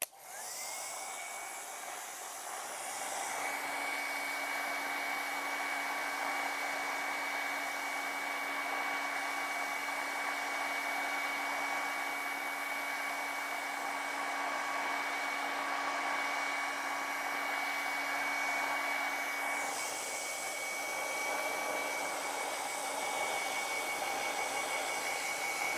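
A hair dryer blows over wet acrylic paint, a close, loud steady whoosh with a constant motor whine that shifts in tone as the airflow changes, running alone for the whole stretch.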